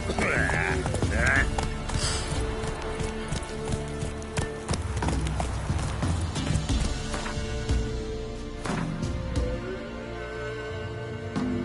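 Horse hooves clip-clop steadily as Roach, Geralt's horse in the video game Witcher 3, is ridden along, layered over a dense game soundtrack with occasional animal bleats and ambient effects.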